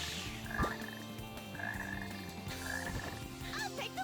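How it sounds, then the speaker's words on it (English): Frogs croak in the video game Sonic Heroes. Repeated raspy croaks come at a slow, regular pace over a busy background of game music and effects. "it's the frog croaking"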